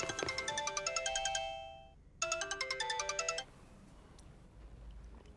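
A phone ringtone plays a rapid electronic melody in two bursts separated by a short pause, loud and close with no voices.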